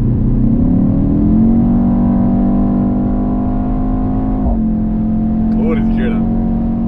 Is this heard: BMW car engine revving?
yes